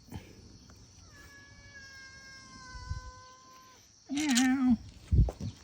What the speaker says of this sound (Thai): แมวแมว